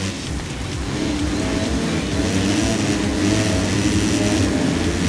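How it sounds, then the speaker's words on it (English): A Honda motocross bike engine in the MXGP 3 racing game, a loud continuous buzzing drone with steady revving and no break, heard alone. "the Honda sounds so weird almost"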